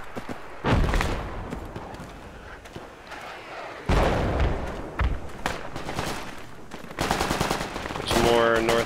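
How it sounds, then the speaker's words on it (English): Rapid bursts of gunfire in Project Reality, a military shooter, loud and close, with short volleys and heavier thuds spread across the clip and a faster rattling burst near the end. "Yeah, I'm shooting at him."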